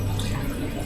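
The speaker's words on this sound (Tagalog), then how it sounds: "Ating lagyan ng tubig." A steady stream of water runs into a pot while making chicken liver adobo, a close, continuous gurgling pour with slight dripping texture and no voices.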